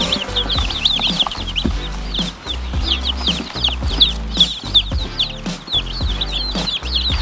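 Chickens clucking in a busy layered mix, several birds overlapping with repeated short calls over a dense, steady background.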